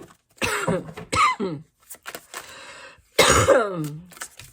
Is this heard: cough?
yes